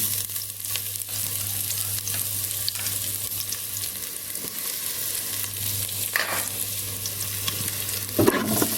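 Garlic frying in a small amount of oil for a clear mixed-vegetable soup with pork and shrimp, a continuous bright sizzle with occasional stirring clinks, and no voices.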